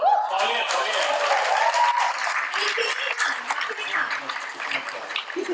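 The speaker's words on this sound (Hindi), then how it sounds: "तालियां, तालियां।" Studio audience applause on a television reality show grand finale, a sustained wash of clapping with cheering voices and talk over it.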